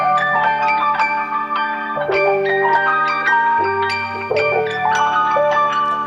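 A bell-like keyboard melody plays dry and forward, with bright chiming notes over sustained low chords that change every couple of seconds, clear and upfront without other sounds.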